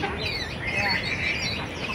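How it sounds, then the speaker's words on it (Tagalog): Many birds chirp and squawk outdoors, a dense, busy chatter of calls filling the whole stretch at steady loudness. "Puro huni ng ibon dito."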